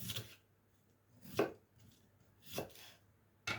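A knife chops through purple cabbage being cut into halves and thin pieces: four distinct, quiet chops spaced about a second apart on a board, with near silence between them.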